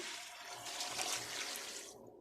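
Water poured into a pot while preparing pickled chilies en escabeche, a steady close splashing pour that cuts off near the end.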